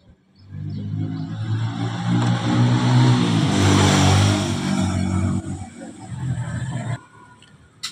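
A Yamaha Fiz R motorcycle engine keeps idling with the ignition key switched off because of a CDI kill-wire fault. It runs close and loud with a steady throbbing hum for several seconds, then cuts out abruptly.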